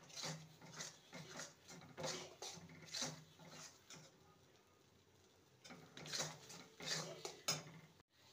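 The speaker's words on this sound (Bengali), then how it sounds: "এবার কড়ার থেকে যতক্ষণ না ছেড়ে আসছে ততক্ষণ নেড়ে যেতে হবে।" A spatula scrapes and knocks against a wok while thick chhena mixture for mondaa sweet, made with nolen gur, is stirred until it pulls away from the sides. The clatter comes in close bursts with short pauses between them.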